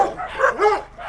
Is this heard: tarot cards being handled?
no